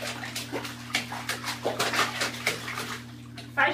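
Water splashing and sloshing in a bathtub where a child is being bathed, a series of short irregular splashes over a steady low hum, close by.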